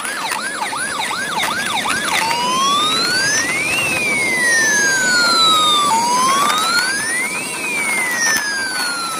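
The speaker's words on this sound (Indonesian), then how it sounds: "ternyata ada mobil ambulan juga teman-teman." A toy ambulance blares an electronic siren close up and loud, quick yelping wails giving way to slow rising and falling tones that repeat without pause.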